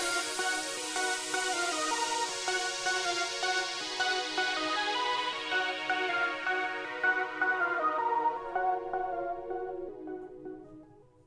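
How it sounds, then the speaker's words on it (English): A Friday Night Funkin' style electronic instrumental plays with a filter sweep that gradually strips the highs, so the bright synth melody dulls and fades out to near silence by the end. "So it kind of has like a fade out effect."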